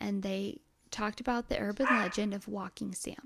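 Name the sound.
dog barking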